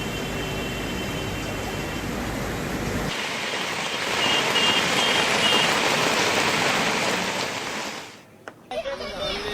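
Dense, hissing monsoon rain pours down steadily in Mumbai, loud and close, with no voices, before it briefly drops away near the end.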